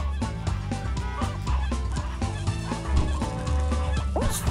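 Chickens cluck repeatedly in the Stumble Guys video game, the clucks coming in a quick rhythmic run over loud, busy game music with no talking.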